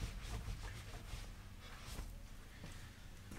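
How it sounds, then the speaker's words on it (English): Microfiber cloth wiping excess polish off plastic car trim, a steady close rubbing swish with short strokes and no pauses, alone without talk. "Go and grab a microfiber and just wipe down the excess from the polish."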